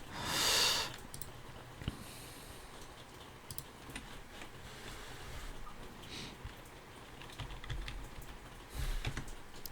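Light keystrokes tapping on a German QWERTZ computer keyboard, soft irregular clicks spread through the quiet with a louder burst of noise near the start and another near the end, no voices.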